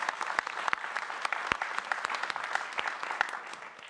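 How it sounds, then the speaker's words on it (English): Conference audience applauds a speaker being introduced, a fairly quiet, even spread of individual claps with sharp separate hand strikes, coming from a modest crowd at a distance. "Please, a big applause for Bernise."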